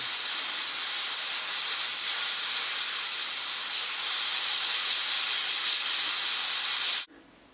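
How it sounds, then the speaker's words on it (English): Steady spray-paint hiss of white paint being sprayed onto a cracked plastic Teenage Mutant Ninja Turtle toy bandana before priming, one continuous close burst lasting about seven seconds, then abruptly cut off. "I'm gonna paint a little bit of white before I primer this"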